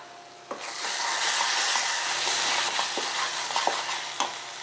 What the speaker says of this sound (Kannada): ಐದು ನಿಮಿಷ ಮಸಾಲೆನ ಮೀಡಿಯಂ ಫ್ಲೇಮಲ್ಲಿ ಚೆನ್ನಾಗಿ ಫ್ರೈ ಮಾಡ್ಕೊಳ್ಳೋಣ